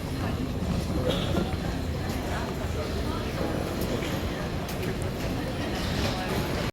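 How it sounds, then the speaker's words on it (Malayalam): A suburban train service ride near Milan, Italy, sounds as a steady, dense rumble of the moving carriage that fills the whole stretch, with muffled voices mixed into the background. "ഇത് ട്രെയിൻ സർവീസാണ് മെട്രോ അല്ല"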